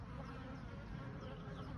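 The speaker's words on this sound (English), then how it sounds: "So in this box here, we have got worker bees that are nursery bees" Worker nurse honeybees inside a hive box, a close, continuous low buzzing drone that stays even and dense throughout, quiet overall with no talking.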